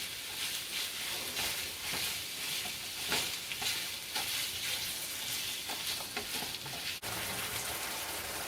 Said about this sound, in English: I got 1 pound of ground beef crumbled and frying.